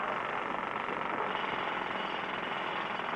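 A steady, rattling rock drill roars without pause, dense and constant, with no voices over it.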